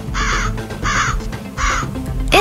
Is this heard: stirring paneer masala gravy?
no